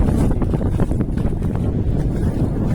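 Steady wind roars across the microphone at a shoreline fishing spot, a constant low rumble with gusty buffeting throughout, like being out on open water.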